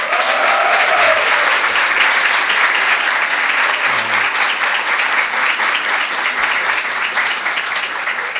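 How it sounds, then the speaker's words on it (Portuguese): Steady, dense applause from an audience at the opening of an exhibition at Unifor, sustained and loud throughout with a brief voice near the start. "que eu queria uma salva de palmas para ele"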